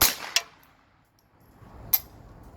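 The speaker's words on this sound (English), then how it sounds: "now that you hear the dry fire" A handgun being unloaded and dry fired gives sharp metallic clicks: one crisp snap at the start, another about a third of a second later, and a final click near the end after a quiet pause.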